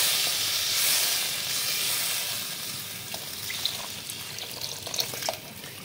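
A pot of taro and mustard fish curry simmers with a continuous close hiss of steam and bubbling, with a few small pops and clinks toward the end.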